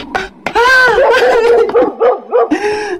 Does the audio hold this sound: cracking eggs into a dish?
no